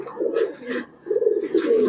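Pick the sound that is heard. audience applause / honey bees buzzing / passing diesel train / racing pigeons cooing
racing pigeons cooing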